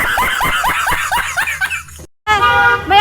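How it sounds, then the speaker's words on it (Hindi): Car horns honk repeatedly in heavy traffic outside a temple in Jaipur, loud and close, with sustained tonal blasts overlapping busy street noise. "यहाँ पे ट्रैफिक है बहुत ज़्यादा"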